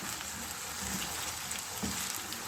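Onions frying over low heat in a pan for a Spanish omelette, a steady soft sizzle running throughout, fairly quiet and even, with a couple of faint clicks and no talking.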